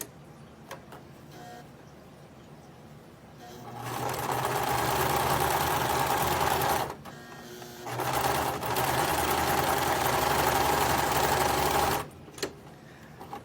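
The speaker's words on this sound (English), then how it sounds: "We're going to stitch along the bottom now." A sewing machine stitches across the bottom of a fabric face mask in two steady bursts of rapid mechanical whirring, close and clear, separated by a short pause.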